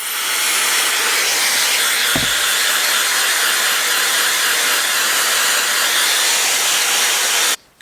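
A Shark Flexstyle hair dryer blows hair dry with a loud, steady, close-up whoosh of rushing air that holds constant for several seconds, then cuts off abruptly at the end.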